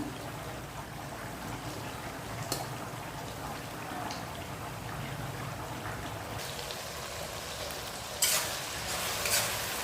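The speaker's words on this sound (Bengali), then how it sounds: "দুই মিনিট পর পর এটাকে এভাবে ভালো করে নাড়া দিতে হবে যাতে তলাতে লেগে না যায়" Beef pasta cooks in a pan, stirred steadily with a spatula over a constant soft sizzle, with a few louder scraping bursts toward the end.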